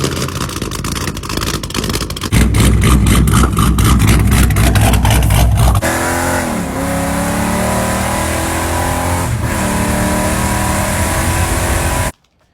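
An LS V8 with stock-style LS9 head gaskets and shorty headers runs close and loud, holding a sustained high rev, then settling to a lumpy idle with two quick throttle blips before cutting off abruptly.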